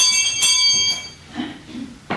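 A school bell rings at Maple Shade's Little Red Schoolhouse in 1983, a clear, sustained metallic ring that fades over about a second, followed by quieter room noise.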